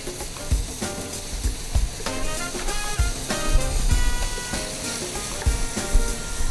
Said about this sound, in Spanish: Removemos para que no se pegue al fuego de la marmita